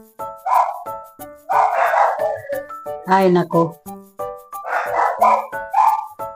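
Dogs barking close by in a home kitchen while dried fish is stir-fried with tomatoes, sharp barks breaking up loud talk in Filipino throughout.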